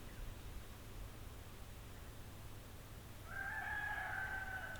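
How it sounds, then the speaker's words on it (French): A young chick in a garden gives one brief, faint tonal call near the end, after a stretch of low, steady outdoor background noise. "Là, c'est un poussin,"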